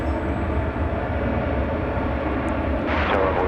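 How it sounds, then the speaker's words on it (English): An American Airlines Boeing 737-800 bound for Omaha roars at DFW Airport at night, a loud steady jet engine rumble that stays broad and constant throughout, with a brighter whine rising near the end. "here's American Flight 2868. It is a 737-800. It's off to Omaha, Nebraska."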